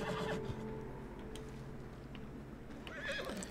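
A horse in Red Dead Redemption 2 neighs, a clear and fairly close whinny, followed by hoof clip-clops and another short whinny near the end over steady low game ambience.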